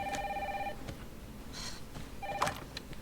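A telephone ringing in the video game Resident Evil Requiem, two bursts of electronic ring tone separated by a pause, fairly faint against a quiet background.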